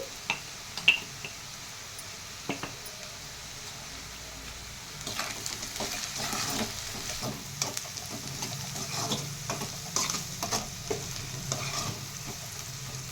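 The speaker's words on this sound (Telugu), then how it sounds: "ఇప్పుడు బాగా వేగుతుంది కదండి" Chowruchukka fish and egg frying in a pan village style, a soft sizzle with occasional stirring scrapes, quiet at first and then building into a steadier crackle.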